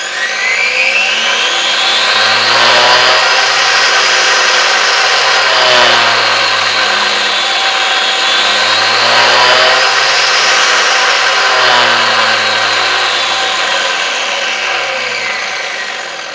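A 250R engine fitted with a Zeeltronic ignition is revved higher in RPM, its loud steady whine climbing and falling in two long sweeps with no talking over it.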